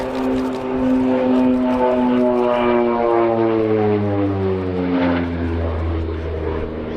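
A North American OV-10 Bronco flies past at Old Buckenham Airshow, its twin turboprop drone loud and steady with descending propeller tones as it passes, continuous without talk.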